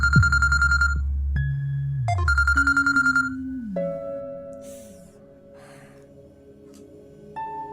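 A phone rings close by with a repeated pulsing electronic ringtone, loud at first, then shifting into sustained tones and fading, with no voices over it.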